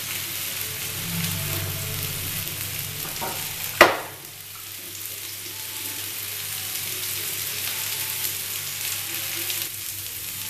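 Fish kababs (ajwani mahi kabab) sizzle in a pan over full flame with butter, a soft, steady frying hiss throughout, broken once by a sharp, loud clatter.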